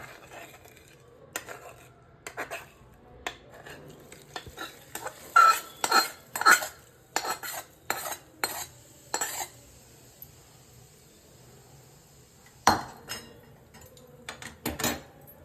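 A spoon scrapes and clinks against a metal vessel in irregular bursts as thick gongura and red chilli pickle is stirred, with soft background hum and no talking.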